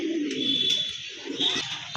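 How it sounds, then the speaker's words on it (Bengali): A pair of Mundian fancy pigeons coo close by, soft throaty calls repeating over a steady background hum. "তার কাছে কিন্তু আজকে এক পেয়ার মুন্ডিয়ান কবুতর আছে"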